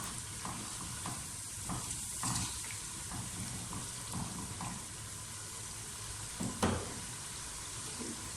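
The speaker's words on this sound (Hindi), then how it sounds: "नमक मिर्च डाल के हम 2 से 3 मिनट इसे मज़ीद भून लेंगे" Meat with salt and chili being bhuna-fried for aloo gosht, a quiet continuous sizzle broken by irregular scraping and stirring knocks, with a louder clatter near the end, no talk.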